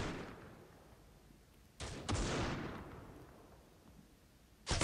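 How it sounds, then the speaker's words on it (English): Video game gunfire: a loud, sharp double shot with a rolling decay, then another abrupt shot at the very end, set against a quiet, hissy background. "How did that guy keep shooting me?"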